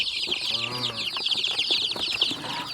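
Young kampung chicks peep in a dense, continuous high chorus, with a few lower clucks mixed in close by.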